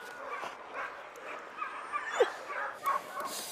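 Sled dogs pulling a dog sled in Norway bark, yip and whimper in scattered bursts, moderately close but fairly quiet, over a soft background hiss.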